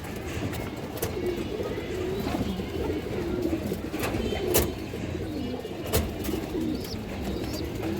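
Army pigeons kept as a pair for sale coo in repeated low, soft rolling calls over a busy background, with someone talking intermittently nearby.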